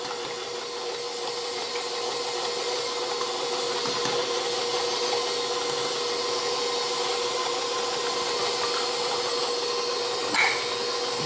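Steady whirring hum of an electric mixer beating cake batter made with eggs and sugar, running continuously at an even pitch with a faint scraping bump near the end, and no voices.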